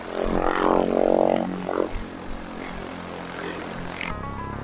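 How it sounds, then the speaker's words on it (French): A light aircraft's propeller engine starts at an aero club airfield in Laon, France, running up loud and rough, settling into a steady drone with a brief sputter near the end. "L'hélice se met à tourner. Le moteur prend vie, l'avion est prêt à quitter le sol."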